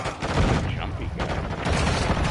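Dense, close gunfire from the game Modern Warfare 2, with rapid automatic bursts layered over constant battle noise and overlapping shouted voices.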